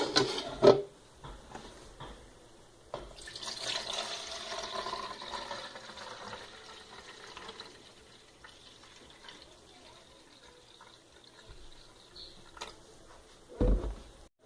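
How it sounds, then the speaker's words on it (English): Cranberry juice is poured from a container into a large mixing mug, a soft, quiet splashing stream lasting several seconds, with faint knocks of the containers at the start and end and no speech. "So we're going to add in the 4 cups of cranberry juice."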